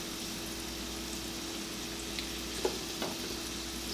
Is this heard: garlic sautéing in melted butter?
yes